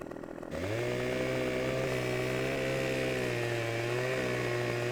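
Chainsaw cutting a tree during logging in the Farming Simulator 17 video game, starting after a brief quiet moment and settling into a loud, steady engine drone for several seconds.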